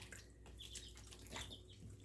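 Sliced mushrooms tipped into a bowl of ice-cold water for a final rinse, giving a soft, steady watery sloshing and trickling that runs close and quiet for about two seconds, with a small splash at the end.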